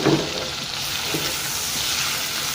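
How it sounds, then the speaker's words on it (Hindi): Chicken fries in a pan with ginger and garlic powder, sending up a loud, even sizzle close by for the whole stretch, with a brief stirring clatter at the start and no voices. "इसको फ्राई करते हैं"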